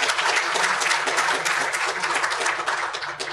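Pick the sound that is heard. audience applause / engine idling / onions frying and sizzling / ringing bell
audience applause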